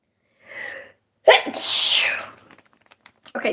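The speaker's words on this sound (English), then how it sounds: "I'm going to give a sneeze." A single loud sneeze bursts out close by, preceded by a short breathy intake and followed by a faint trailing voice.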